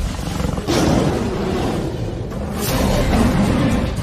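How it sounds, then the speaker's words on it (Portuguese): A wild African lion roars, a loud, deep, rumbling bellow rising in two long surges with a short pause between, close and powerful, no talk over it. "O rugido de um leão não é apenas ouvido, ele é sentido também."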